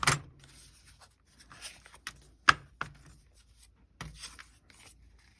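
Scissors cut through paper music-sheet tags in a few crisp, separate snips with quiet pauses between, close to the ear and fairly soft.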